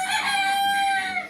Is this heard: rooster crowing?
yes